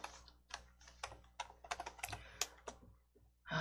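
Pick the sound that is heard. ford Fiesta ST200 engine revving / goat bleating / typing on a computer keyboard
typing on a computer keyboard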